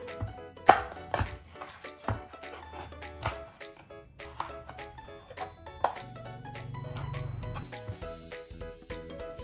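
Knife steadily chopping 300 grams of chicken breast into small pieces on a board, a run of crisp, uneven strikes close by, with soft background music underneath.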